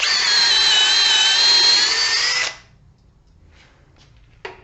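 A Makita 18V subcompact drill with a 2 amp-hour battery spins a twist bit in a loud, steady whine for about two and a half seconds, then winds down into near quiet before a short faint click.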